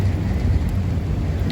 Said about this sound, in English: I'm in a severe thunderstorm warning.